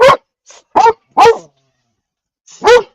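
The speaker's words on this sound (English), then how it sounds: "This bark is something else." A brown-nosed puppy barks in short sharp yips, four or five separate barks with brief pauses between them, close and loud with no other sound around.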